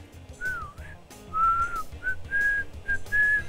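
Someone whistles a short, wavering tune in several separate phrases, near and fairly clear, with no talking over it.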